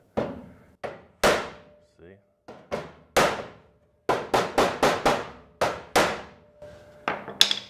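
A hammer strikes a metal body panel on a 1968 custom VW repeatedly, about a dozen sharp ringing blows in uneven bursts with short pauses, and a brief spoken word partway through.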